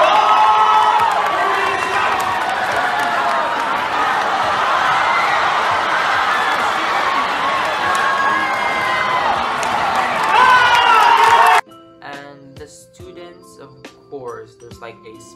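High school students at a roll call cheer, whoop and clap in a loud, sustained crowd roar for about eleven seconds, ending abruptly before scattered quieter sounds.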